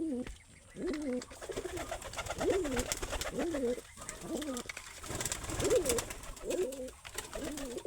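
Giribaz pigeons on a farm coo repeatedly in close, rhythmic phrases, a pair of birds calling near the microphone with faint background noise and no talk.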